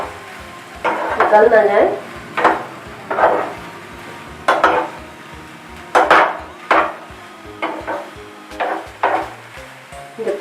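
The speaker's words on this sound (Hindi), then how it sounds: "इनको हम 4 से 5 मिनट तक अपनी सब्जियों को पकाएंगे" Vegetables cooking in a pan for veg manchow soup, a steady low sizzle broken by a rhythmic series of scraping stirs of a spatula against the pan, with a brief spoken remark partway through.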